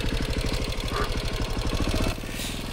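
A motorcycle stuck in muddy, water-filled ruts in Vietnam idles with a steady, throbbing engine pulse, loud and close, its rhythm shifting slightly near the end.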